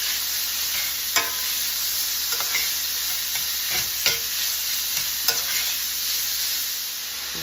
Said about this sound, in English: Break this up, mix it up.